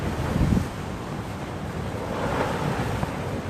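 Stormy wind and surf along the sea shore, a steady broadband roar of waves and gusts buffeting the microphone, with a stronger surge early on and no voices.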